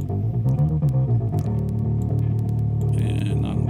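A distorted metal guitar track plays through an amp sim with 4x12 British cabinets, its gritty, thin chugging tone sustained and loud with no pauses.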